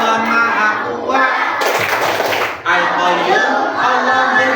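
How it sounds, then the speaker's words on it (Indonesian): A fifth-grade class claps together in rhythm during a religious lesson, with a burst of brisk group clapping in the middle set against children and a teacher chanting and speaking. "Tepuk Asmaul Husna"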